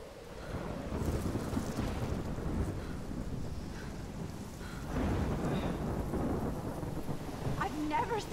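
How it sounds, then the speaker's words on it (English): A thunderstorm in the video game Life is Strange, with heavy rain pouring steadily and low thunder rumbling throughout. A louder roll comes midway, and no one talks over it. "I've never seen a storm like this before."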